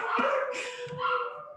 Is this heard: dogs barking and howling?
yes